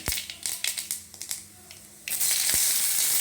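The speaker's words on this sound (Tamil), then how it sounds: "தாளிக்கிறதுக்கு கடுகு, உளுத்தம்பருப்பு ரெண்டு தான் போட்டிருக்கேன்." Mustard seeds and urad dal crackle in hot oil for a Tamil tempering, starting with sharp, irregular pops that give way to a loud, steady hissing sizzle.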